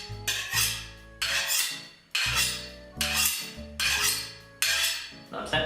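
A kitchen knife is drawn repeatedly against a sharpener, making about six rhythmic metallic scraping strokes with short gaps between them, close and clear with no voices.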